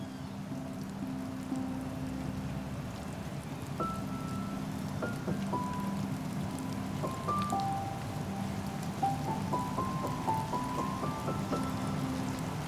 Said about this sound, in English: The thing about rain is that it slows everything down.